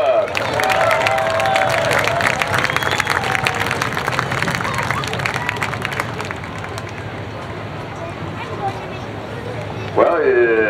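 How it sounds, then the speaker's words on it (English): A crowd at a speedway late model race event claps and cheers for a driver, a broad spread of applause heard under loud announcer talk that carries on over it. "nice round of applause for Jeremy Vanderhoof."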